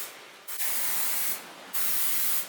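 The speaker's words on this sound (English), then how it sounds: "And of course I'm going to spray the top." Oil sprayed from a can over the tops of raw chicken breasts: two short, close hissing spray bursts separated by a brief pause, quiet and clean without talk.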